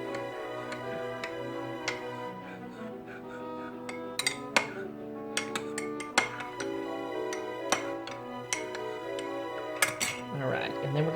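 A teaspoon clinks against a mug while stirring honey into a hot toddy, light metallic taps and rings recurring irregularly over a steady low hum, with soft background sounds and no talk.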